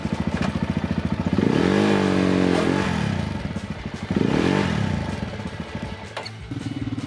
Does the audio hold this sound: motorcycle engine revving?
yes